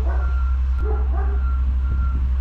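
A Scania V8 truck reverses slowly with a steady, evenly spaced reversing beep over a loud low engine rumble, close by.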